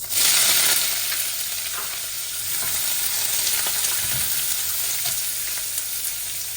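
Onion hits a pan of frying keema with cinnamon, bay leaves and cardamom, bursting into loud sizzling at first. The frying then settles into a continuous, close crackle with no talking.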